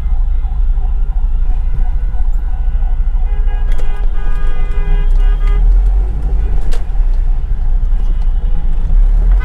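In a traffic jam on a city road, car horns toot in short bursts and a few longer blasts over a loud, steady low engine rumble heard from inside a manual car.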